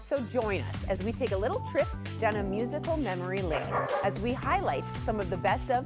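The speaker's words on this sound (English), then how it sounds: "that's our dog that's coming up next" A dog barks and yips in a TV studio during a one-year anniversary show, the sound partly buried under continuous talk and background music.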